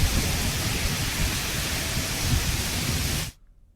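A sudden nighttime storm in a city with heavy rain and strong wind: a loud, dense, steady roar of downpour and gusts that cuts off abruptly near the end.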